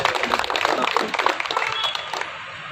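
A crowd claps in a dense burst of applause that fades out toward the end, with a voice speaking over it.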